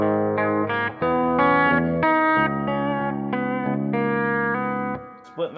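Gibson Les Paul electric guitar played with humbucker pickups through distortion and chorus effects, a series of sustained, thick chords ringing out one after another, loud and close, then fading at the end.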